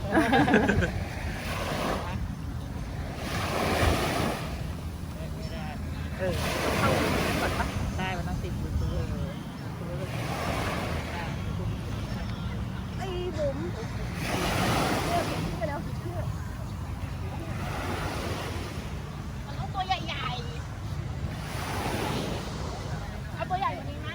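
Waves wash onto a beach at Rayong, Thailand, in repeated surges every few seconds, a broad rushing roar with wind noise throughout.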